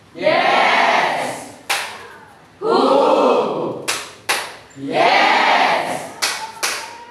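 Several bursts of group clapping in rhythmic patterns at an Indonesian facilitator training session, with a crowd's chanted voices between and over the claps, close and loud.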